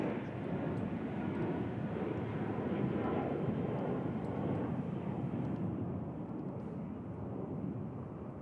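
Airplane at DFW Airport, a steady broadband roar of jet engine noise holding loud and even throughout, with a slight wind rumble.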